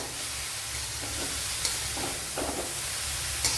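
Chopped onions frying in hot oil for Kerala-style cheera thoran give a steady, close sizzle, with a few louder crackles and pops scattered over the hiss.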